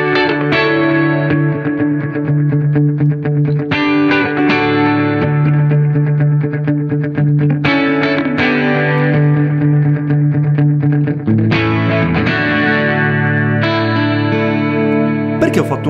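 Guitar played through a TC Electronic Plethora X5 pedalboard with compressor squeezing the dynamics and a shimmering classic chorus, a full, steady run of strummed chords and lines with lush modulation and some echo, continuous and loud with no talk.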